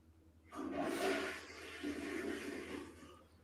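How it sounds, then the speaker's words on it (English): A toilet flushes with a loud rushing surge that settles into a steady gurgling drain, heard alone over a faint background hum. "Who's flushing the toilet?"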